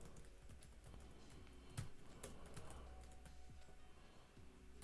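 Faint, quick clicks of a computer keyboard being typed on, irregular taps in short bursts that sit low in a quiet room.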